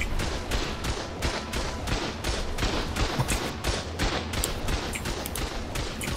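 Gunfire during an online raid on a tribe base in the video game ARK, a dense, continuous rattle of rapid shots and impacts over steady rumbling noise, moderately loud with no voices.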